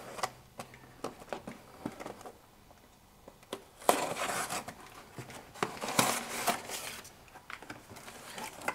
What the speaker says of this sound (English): here is the box, a knife. We're going to cut this open.